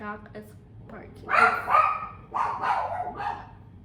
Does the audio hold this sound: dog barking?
yes